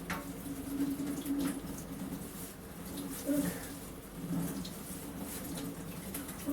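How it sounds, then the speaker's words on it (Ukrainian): Tap water runs steadily into a sink while a circular saw blade is washed, a continuous splashing flow with small bumps and clinks, faint and close. "трошки додавлю потік води"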